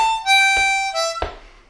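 First half of a harmonica lick: a held reedy note, then chord stabs and a higher draw note on a solo harmonica, close and clear, with no talking.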